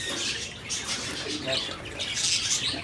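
High, soft chirping from four young lovebird chicks, close by and fairly continuous, with some rustling and a low background hum.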